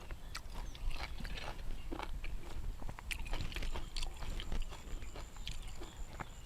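Crunchy young coconut shoot being chewed and bitten up close gives a steady run of crisp, crackling crunches and wet mouth sounds for several seconds, with no talking.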